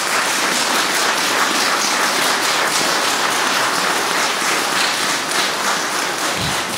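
A concert audience claps steadily throughout a New Year concert in Rąbino, a dense, sustained wash of applause with no voices over it.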